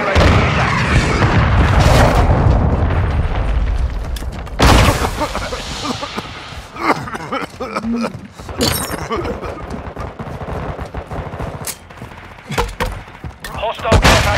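Heavy explosions from a cruise missile strike in Call of Duty: Modern Warfare II, with a loud rumbling blast at the start and another sharp one mid-clip, followed by scattered gunfire and smaller bangs under in-game radio voices.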